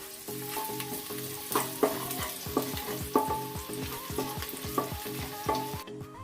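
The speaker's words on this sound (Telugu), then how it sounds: "ఈ ఉల్లిపాయ ముక్కల్ని కొద్దిగా బ్రౌన్ కలర్ వచ్చే వరకు ఫ్రై చేసుకోవాలండి." Onion pieces frying in hot oil in a home kitchen until browning, a steady close sizzle broken by repeated stirring scrapes and clatters at a regular rhythm, with no talk.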